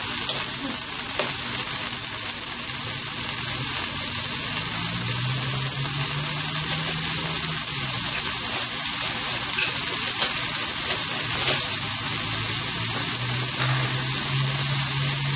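Callaloo and tomato sauté in a pan for Jamaican callaloo, making a loud, steady, unbroken hiss of frying that lasts throughout, with a faint low hum beneath it.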